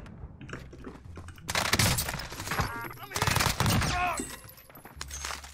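Gunfire in the Call of Duty video game: rapid bursts of shots crackle in short clusters, loud and close, with brief pauses between volleys and some quieter moments at the start and end.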